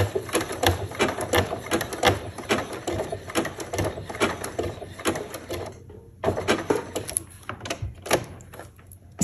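A sewing machine zigzag-stitches a coil of fabric-wrapped rope, a close, fast mechanical chatter in steady runs that breaks off briefly before starting again.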